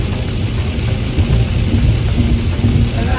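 Heavy rain pounds a car during a drive, with thunder rumbling underneath; a loud, dense, continuous wash with no voices.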